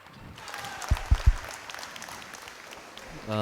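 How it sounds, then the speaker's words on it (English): An audience applauds after a stage singing performance, steady clapping at moderate volume, with a few heavy thumps and a voice over it. "give them a big round of applause"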